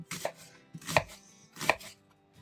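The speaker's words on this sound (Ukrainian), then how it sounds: "Зараз я підріжу цибульки." Knife chopping onion on a board, three distinct crisp cuts spaced about a second apart, close and fairly quiet with nothing else heard.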